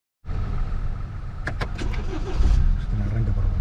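A BMW X1 2.0i engine started by push button inside the car: a quick crank catches into a steady idle that swells a little louder after a couple of seconds, close and continuous, with faint clicks early on.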